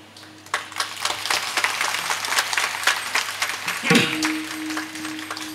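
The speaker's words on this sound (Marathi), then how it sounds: "मनापासून वाजवा" Audience at a comic kirtan in Bhiwandi claps in scattered, uneven bursts that grow and fade across the stretch, mixed with a speaking voice and crowd murmur in a reverberant hall.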